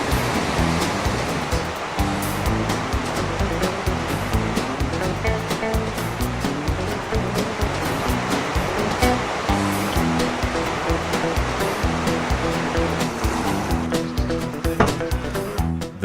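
Loud, continuous churning roar of whitewater rapids on the Green River, surging close up as small two-person inflatable kayaks ride through, with no voices.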